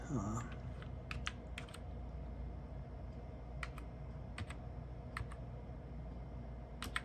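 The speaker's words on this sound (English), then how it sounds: "Typing one-handed here as I reach around the camera" Computer keyboard keys on a Power Mac G4 click in short, irregular bursts over a low steady hum, fairly close, with no one speaking.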